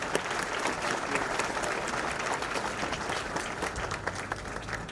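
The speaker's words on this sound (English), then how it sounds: "Let's give them a hand of applause." Crowd applause at a Kenya School of Government graduation ceremony as graduating county commissioners and undersecretaries stand, steady dense clapping from a large audience throughout, fairly distant and moderate in level.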